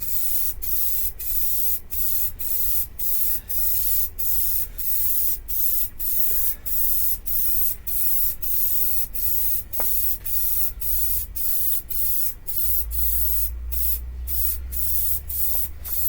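A spray gun lays light coats of paint in very cold conditions. A steady, loud hiss of spraying runs throughout and is broken by regular short gaps as each pass ends, with a low rumble underneath.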